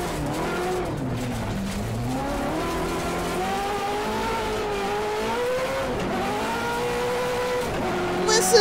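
A Subaru rally car fitted with a Ferrari engine revs hard and accelerates, its loud, rising and falling engine note sweeping through several gear changes, with tyre squeal mixed in and a voice faintly audible.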